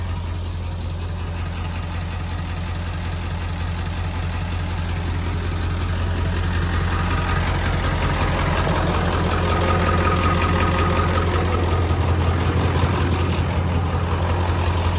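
A car engine with its exhaust removed down to the downpipe idles loudly and raw, with a deep, steady low rumble and a rapid throbbing pulse that holds throughout.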